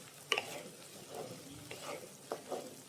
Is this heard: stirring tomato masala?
yes